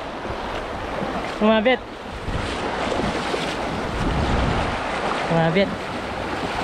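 A strong current in a large river at night rushes in a steady, loud broadband roar, with two short bursts of a voice briefly over the water.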